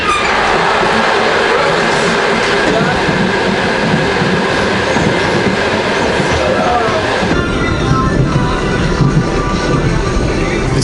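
Continuous loud rumble and clatter of a Trans-Siberian Railway train heard from the passage between carriages, with rattling wheels and a sharp change in the noise partway through as a door shifts the sound.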